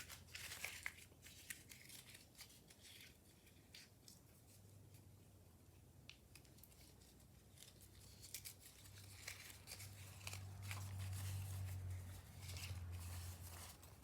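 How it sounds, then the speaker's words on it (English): A paper notecard is crumpled up by hand, giving soft crinkling and crackling bursts that grow louder and denser toward the end, with no talking. "I'm going to crumple it up."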